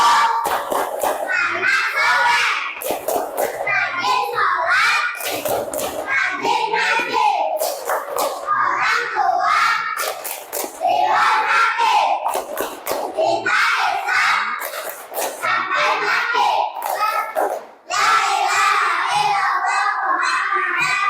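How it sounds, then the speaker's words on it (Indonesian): Schoolchildren in a classroom chant the rhythmic 'tepuk anak soleh' verse in unison, punctuating the lines with sharp bursts of hand claps, loud and close, with a short pause near the end before the chant resumes. "1, 2, 3, tepuk anak soleh."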